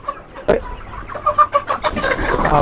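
Colour bird broiler chickens in a farm shed clucking in short, rhythmic bursts after a sharp knock, a busy flock murmur building toward the end.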